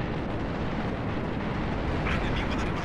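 Rapid ballistic cannon fire from a frigate in the video game Halo: Reach, a dense, continuous rumble of booming shots throughout, loud and steady with a brief brighter burst near the end.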